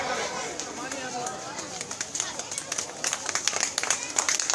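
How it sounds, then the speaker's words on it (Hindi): Loud clapping from a gathered audience at a welcome ceremony in a dargah courtyard, with dense crisp hand claps that swell toward the end while a voice talks over the start. "जोरदार तालियां"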